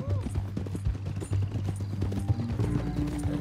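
Horse hooves clip-clop at a steady walking pace in Red Dead Redemption 2 while a rider is carried tied up on horseback, the rhythmic thuds sitting under low background game ambience.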